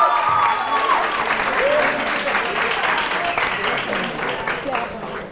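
A studio audience at a televised school quiz show applauds in a sustained, even wave of clapping, loud and full throughout, with a faint voice briefly audible underneath.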